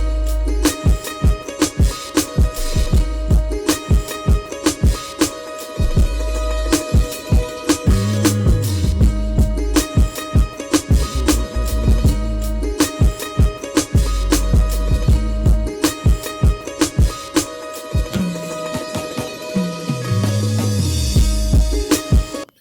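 A hard-hitting beat made on an MPC runs with punchy drums, deep bass hits and melodic notes pitch-bent a full octave, loud and busy throughout with no talking.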